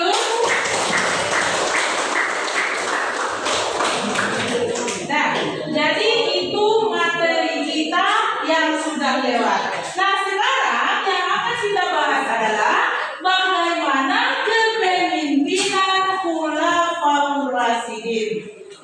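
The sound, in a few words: class applause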